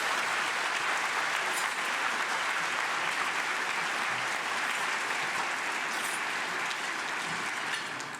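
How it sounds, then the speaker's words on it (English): Audience at the Oro Valley State of the Town event gives a steady round of applause, a continuous dense wash of clapping that stays even throughout and tapers only slightly at the end, with no talk over it. "So let's give them a big round of applause"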